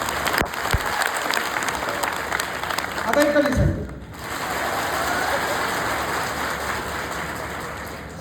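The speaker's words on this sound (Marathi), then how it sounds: "आता मला टाळ्या पाहिजेत, फक्त इकडली साईड टाळ्या वाजव" One section of an audience in a hall applauds in a dense, rain-like wash of claps that holds steady after a short spoken prompt, loud and sustained.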